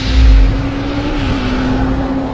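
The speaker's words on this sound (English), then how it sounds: "That's a Suzuki 4-cylinder machine taking on a V-twin EBR Buell." A pro stock motorcycle race pits a Suzuki four-cylinder against a V-twin EBR Buell, a loud sustained engine drone with a steady hum and a heavy low thump near the start, heard briefly and close.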